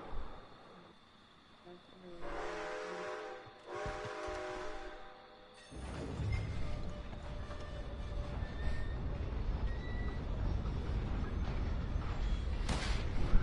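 A train runs in the video game Red Dead Online, with a loud steady rumble and clatter of wheels on rails from about six seconds on, after quieter tonal game sounds; people talk over it.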